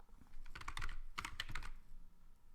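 Fingers type on a computer keyboard, filling in sign-up details for an inventory system. Quick, close keystrokes come in two bursts with a short pause between them, and then the typing trails off.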